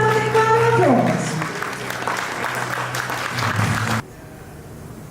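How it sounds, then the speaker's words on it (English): An audience at a global e-trade plenary session claps steadily for about four seconds, a dense wash of hands that cuts off abruptly, with a brief voice at the start. "Please give them a big round of applause"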